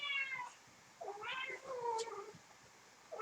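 A house cat meows several times, with drawn-out, rising and falling cries close to the microphone and short quiet gaps between them.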